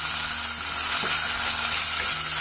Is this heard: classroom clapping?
no